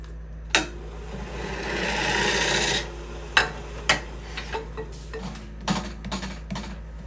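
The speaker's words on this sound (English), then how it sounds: "I'm running my lathe a little slower than I normally would just to slow everything down" Bowl gouge cuts wood on a lathe turning slowly at about 400-450 RPM, giving a continuous close rasping scrape followed by several sharp knocks and lighter taps, over a low steady hum.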